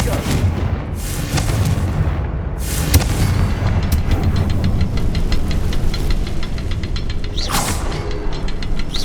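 Confringo fire-spell explosions in the Hogwarts Legacy video game, heard as loud, dense booming and rumbling with crackling bursts, mixed with other game effects and voices.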